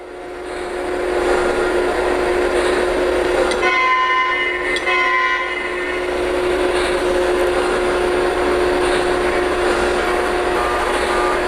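A model diesel locomotive rolls steadily through a switch from one track to another, with a constant mechanical hum and a brief burst of clicking, rattling wheel noise partway through as it crosses the turnout.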